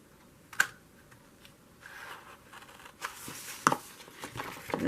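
Scissors snip through two stacked journal pages at once, cutting mushroom shapes in a quiet room; a few soft, scattered crunching cuts, faint and close, with no talk.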